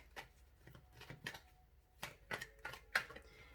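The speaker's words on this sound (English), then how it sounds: "So I'm also going to shuffle a card for you guys with this deck." A deck of oracle cards shuffled by hand, with close, quiet papery flicks and taps in uneven bursts, a few sharper clicks standing out, without talk.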